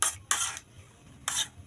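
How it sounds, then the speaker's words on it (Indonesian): Spoon scraping and stirring coconut milk with pandan leaves in a pot, heard as three close, rough bursts of rasping strokes separated by near silence. "Diaduk terlebih dahulu."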